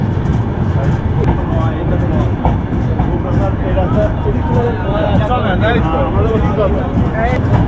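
The Rupashi Bangla Express pulls into Kashiani Junction railway station with a steady, dense rumble of the moving train filling the whole stretch, while a voice talks over it.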